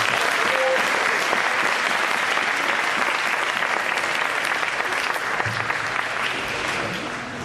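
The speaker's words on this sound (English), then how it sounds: "give these guys another round of applause" An audience at a high school winter and spring sports awards ceremony applauds. The clapping is dense and sustained, fills the room and tapers slightly at the end.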